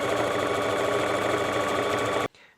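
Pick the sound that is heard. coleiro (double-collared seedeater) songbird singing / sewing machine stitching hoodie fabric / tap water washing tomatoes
sewing machine stitching hoodie fabric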